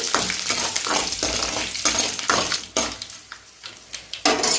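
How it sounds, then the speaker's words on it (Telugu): Tempering spices, dried red chillies and curry leaves fry in oil for hotel-style poori curry, sharp crackling bursts and repeated metallic stirring scrapes against the pan, close and lively. "కొన్ని తాలింపు దినుసులు ఇవి కొంచెం వేగిన తర్వాత ఇవ్వండి వెండి మిరపకాయలు కొంచెం కరివేపాకు ఇవి కొంచెం బాగా వేగనివ్వాలి"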